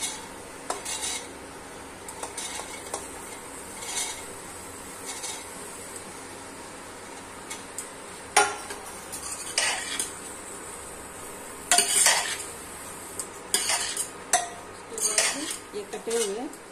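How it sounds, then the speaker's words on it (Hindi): Guar bean curry with spices is stirred in a pan with a metal spoon. Irregular scraping strokes and sharp clinks against the pan come in clusters with brief pauses. "सभी को अच्छी तरह मिला देंगे।"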